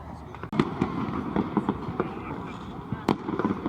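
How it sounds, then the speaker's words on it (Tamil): Fireworks burst over Basel, Switzerland at a birthday celebration, a rapid series of crackling bangs and pops over crowd noise, with one sharp louder report near the end. "ஆனா ஸ்விஸ்ல அதாவது பாசல்ல இப்படித்தான் ஃபயர் ஒர்க்ஸ் நடக்க போகுது"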